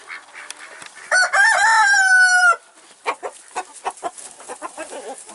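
Chickens and a rooster in a coop with fresh straw, a loud nearby crow followed by scattered clucking and rustling.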